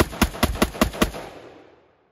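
A rapid string of six loud gunshots fired outdoors, evenly spaced about a fifth of a second apart, each sharp crack ringing out in a long fading echo afterward.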